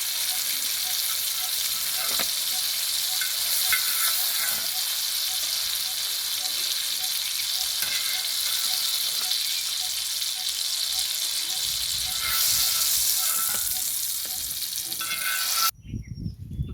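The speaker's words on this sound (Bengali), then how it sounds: "বাকি যা তেলটা আছে এই তেলে এই দুটো ভাজা হয়ে যাবে" Stuffed tomatoes fry in leftover oil with a steady, close hiss of sizzling that holds evenly, briefly swells near the end and then cuts off sharply.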